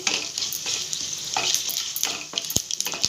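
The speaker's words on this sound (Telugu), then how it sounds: "కొంచెం ఆవాలు వేసుకొని" Mustard seeds crackle and sizzle in hot oil in a pan for a phool makhana masala gravy, a steady close frying hiss broken by scattered sharp pops and a few stirring scrapes.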